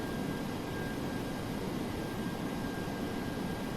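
Jet engines of a DC-8-73F at high thrust in the FSX flight simulator, a steady, loud, broadband roar with a faint constant whine riding on top, unbroken throughout.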